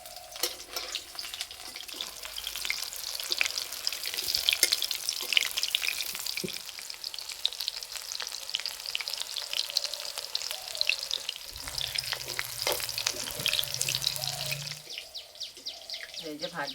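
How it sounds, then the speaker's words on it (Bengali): Soybean pakoras frying in hot oil in a home kitchen, a continuous crackling sizzle close up that fills the whole stretch, with occasional clinks and a short lower hum near the end. "তেল গরম হয়ে গেছে, এবার ভেজে নেব।"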